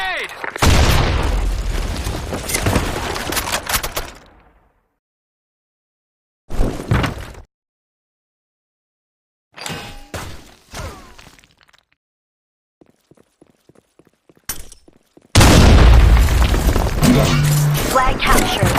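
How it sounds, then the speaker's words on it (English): A grenade blowing up in a video-game match, heavy booming blasts with shattering noise that come in loud bursts separated by silent gaps and a few faint clicks, ending in a long, sustained roar. "Grenade!"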